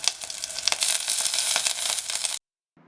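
Shallots, dried chili and curry leaves hit hot oil in a pan with a loud, dense sizzle for about two seconds, then it cuts to near silence with a faint low hum.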